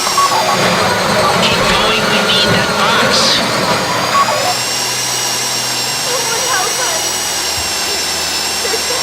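A drill grinds steadily into a safe-deposit box during a bank vault heist in GTA V, a constant high whine that stays loud throughout with some rough scraping early on.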